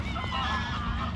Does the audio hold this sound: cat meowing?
no